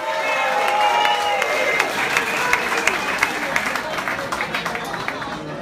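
Crowd at a 2015 Sea Breeze Jazz Festival after party applauds and cheers loudly for a saxophonist celebrating his birthday, dense clapping and whoops sustained throughout with a voice briefly over the noise.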